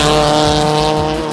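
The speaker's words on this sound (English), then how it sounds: "Car doesn't sound very nice at all, so he's heading straight towards the pit exit there" A race car in the Dutton 1 entry runs rough while heading toward the pit exit at a circuit race, its loud, close engine drone steady and harsh with a low rumbling undertone throughout.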